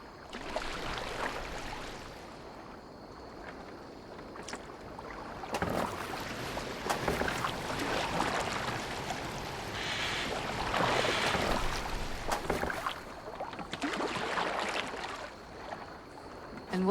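A boat glides over water in Assassin's Creed Valhalla, giving a continuous wash of splashing and rushing water with wind that swells and fades throughout, fairly loud and steady.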